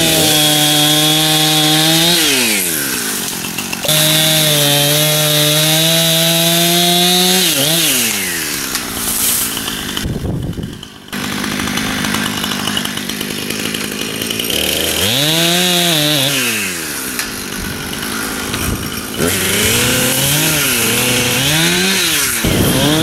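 A close, loud chainsaw revs and bogs down repeatedly as it cuts through wood, its pitch rising and falling with each pass.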